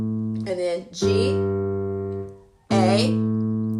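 Sustained piano tones ring out close and clear, first two overlapping notes and then a held G that decays slowly before a fresh strike near the end.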